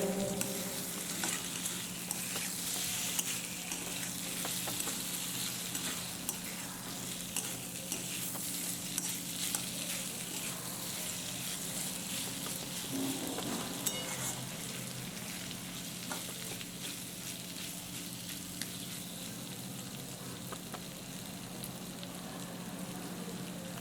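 Cut potatoes stirred into a spice masala in a pan, giving a soft, steady sizzle with scraping stir strokes throughout, fairly quiet and close.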